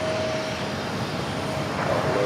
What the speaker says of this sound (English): I love the sound of the APU starting up.